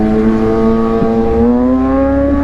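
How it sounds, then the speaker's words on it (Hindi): A Kawasaki ZX-6R inline-four motorcycle with a loud exhaust revs hard nearby, a steady high-pitched engine scream rising slightly in pitch, close and loud, with no voices. "जब भी मासूम की इनलाइन 4 की बाइक की आवाज़ आती है ना, मैं डर जाता हूँ"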